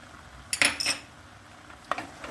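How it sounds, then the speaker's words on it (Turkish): Sugar, cinnamon and cloves are stirred in a pan while roasting for pekmez cezerye, making a couple of quick metallic scrapes and clinks of a utensil against the pan, close and fairly quiet in an otherwise still kitchen. "Güzelce karıştırıyorum."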